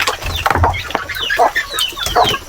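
Native chickens on a small provincial farm cluck and chatter in repeated short calls, several birds close by, with busy overlapping bursts and no talking.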